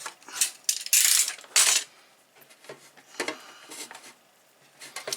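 A plastic hose pipe elbow joint is cut off on an etching station build, with several sharp, close cracking and snipping bursts, the loudest near the start, followed by lighter clicks and rustles.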